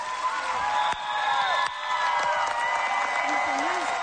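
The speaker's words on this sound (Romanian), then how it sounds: "aplauze, astea sunt aplauze!" An audience at a talent-show performance applauds and cheers, loud crowd clapping mixed with whoops under a singing or speaking voice.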